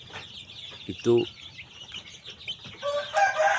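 Young DOC chicks in a poultry house cheep and cluck in short, high bursts, fairly faint, while a person talks nearby.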